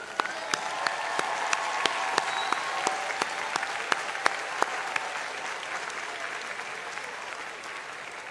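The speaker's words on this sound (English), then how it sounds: "Let's give them a round of applause." A ceremony crowd applauds graduates with steady, moderately quiet clapping, individual sharp claps standing out from the continuous wash throughout.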